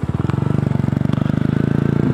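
Yamaha YZF R125 motorcycle fitted with a Devil exhaust, engine idling with a steady, rapid, loud, close-up thumping pulse throughout.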